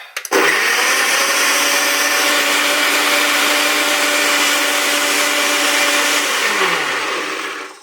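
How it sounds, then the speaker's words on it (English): A countertop blender roars steadily for several seconds as it blends a purple smoothie made with water and a touch of cinnamon, loud and close, then winds down at the end. "So now let's blend it."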